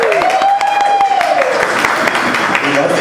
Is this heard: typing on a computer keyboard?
no